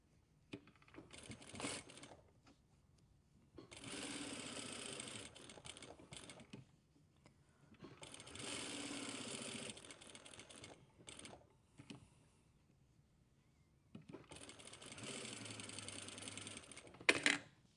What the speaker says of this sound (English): So we can edge stitch using our compensating foot or our normal presser foot.